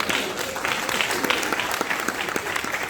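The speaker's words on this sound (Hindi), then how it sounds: "तालियां बजाया करो तो ढंग से बजाया करो" Dense, steady applause from an audience at a Hindi poetry gathering (kavi sammelan), many hands clapping continuously throughout at an even, lively level.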